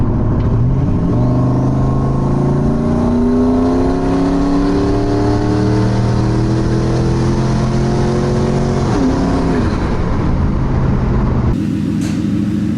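Engine of a turbocharged Ford Crown Victoria running loud and close, its pitch rising and falling through several long revs with whooshing turbo tones, before cutting off abruptly near the end.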